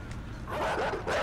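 Dogs in the video game INSIDE give a couple of short, gruff barks over a noisy, rumbling game background, moderately close and brief.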